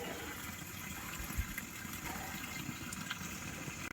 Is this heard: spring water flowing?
yes